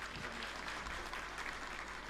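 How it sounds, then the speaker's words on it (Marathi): Applause at a farmers' protest gathering welcoming a visiting politician, a steady distant wash of many hands clapping without a pause. "त्यांचं एकदा टाळ्या वाजवून स्वागत करा."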